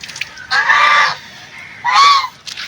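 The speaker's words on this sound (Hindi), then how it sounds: "तो ये मेरे पीछे आ रही हैं बतखें।" Two loud, drawn-out honking calls from nearby ducks, separated by a short pause, with no talking.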